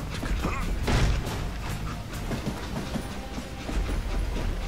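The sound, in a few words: train in video game Call of Juarez: Gunslinger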